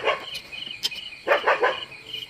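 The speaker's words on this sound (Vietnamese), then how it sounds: "Chó sủa kìa" A dog barks at night outdoors during a frog hunt, giving a few short barks at moderate distance over a soft bed of insect and cricket chirping.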